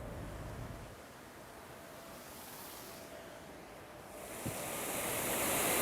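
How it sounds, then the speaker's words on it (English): Water rushes out of a canal lock as a broad, steady roar of turbulent flow, with wind buffeting the microphone and the noise swelling louder toward the end; no one speaks. "The rushing water coming out of the lock here looks wicked."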